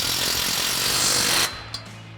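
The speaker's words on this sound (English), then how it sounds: "Fully tighten down that clamp." An impact or socket wrench buzzes loudly for about a second and a half, tightening an exhaust clamp on a 2019–2024 Silverado/Sierra 1500 dual exhaust, then stops abruptly, leaving a faint click.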